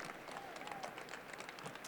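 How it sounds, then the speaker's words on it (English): Crowd at a coffee brewing championship in Richmond, Virginia applauding a competitor, a faint, distant steady patter of many hands clapping with murmured voices underneath. "Big, huge round of applause for Elise Tanyag."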